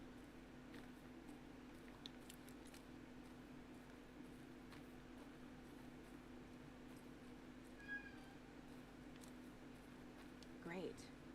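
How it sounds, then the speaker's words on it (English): A cat meows a couple of times, short rising-and-falling cries set over a steady hum of Alan Wake 2 game audio, fairly faint and separated by quiet stretches. "Either there's a cat in the game or my cat started meowing."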